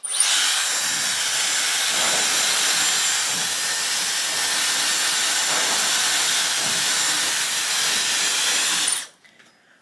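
Hair dryer blasting hair dry during a wash routine, a loud steady whooshing roar held close for about nine seconds before switching off abruptly.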